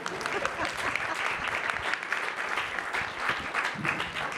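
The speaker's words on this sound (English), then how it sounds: "Or you can clap for them" A workshop audience at a climate communications summit gives a sustained round of applause, steady and moderately loud with no pauses.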